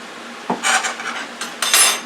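Garlic being stirred into pork and bean fried rice, with a utensil scraping and clinking against the pan in a few short bursts separated by brief pauses, close and fairly loud.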